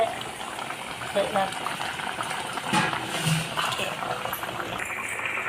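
Fish curry with lemon and curry leaves bubbles in a pot, making a steady watery simmer and gurgle with faint clinks in the background.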